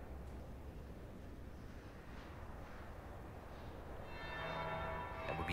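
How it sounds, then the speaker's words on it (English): A bell tolling in Dragon Age Inquisition, a faint, distant ring that swells toward the end over a low, murky ambient backdrop. "That would be the second bell."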